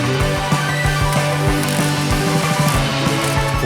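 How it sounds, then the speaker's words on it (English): Quick, rhythmic clicking of a ratchet tightening 11mm bolts to mount a 2008-style tow mirror on a 2007-2014 Ford F-150, close and loud, with a steady run of ratchet strokes. "Install the mirror using the 11mm bolts."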